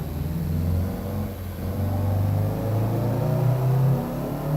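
A lowered Honda Civic EG engine runs steadily with low rumbling tones that rise and fall slightly, close by, with no voices over it.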